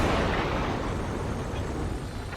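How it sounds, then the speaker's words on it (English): In the Ace Combat 7 combat flight game, a missile strikes a supply ship, and a loud, sustained explosive roar and rumble fills the whole stretch without a break. "The missile hit the supply ship dead on."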